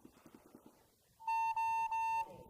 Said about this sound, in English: Clean, and he's going to get the buzzer.